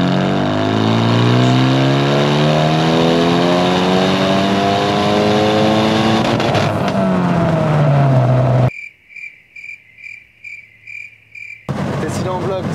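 A tuned car engine revs at full load in third gear during a remapping test run, rising steadily in pitch for about eight seconds before cutting off, followed by a quiet stretch with faint beeps and then the engine returning.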